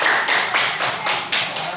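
Hands clapping in a classroom, a short burst of brisk, fairly loud claps in a steady rhythm, with no talking over them.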